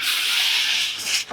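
A hand rubs sandpaper across wood on a shoe tidy project in one continuous, close, raspy stroke that fades briefly near the end.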